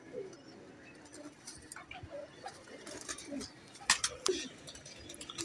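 A pair of domestic pigeons, a male and a green female, coo softly and intermittently among light rustles and a few sharp clicks, with faint voices nearby.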